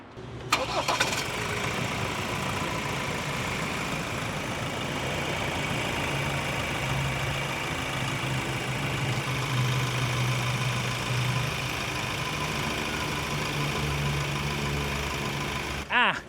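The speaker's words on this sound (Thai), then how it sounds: "เดี๋ยวฟังเสียงเครื่องกันครับไป" A 2021 Ford Ranger FX4 Max with the 2.0 Bi-Turbo diesel idles steadily close by after a short start-up, its even low rumble and faint clatter holding across the whole stretch with no talking.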